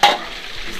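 Chicken frying in hot oil, a bright crackling sizzle that bursts loud at the start and then settles into a steady, close hiss with stirring, no voices.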